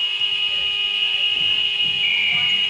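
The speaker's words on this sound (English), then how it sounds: "and the buzzer will sound." A loud, steady high-pitched electronic buzzer sounds continuously at the end of a school netball match, with faint low murmuring beneath it.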